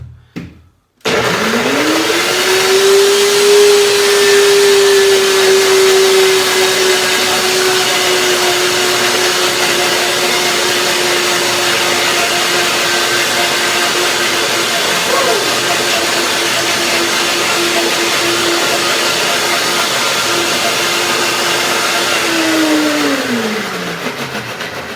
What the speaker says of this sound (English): I begin to blend the cashews with the bananas